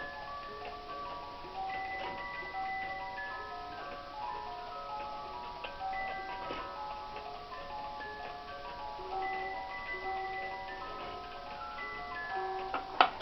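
A Farmer's Daughter cuckoo clock with new bellows and chains striking the hour, playing a soft tinkling music-box melody with steady ticking underneath, faint and close, with no talking.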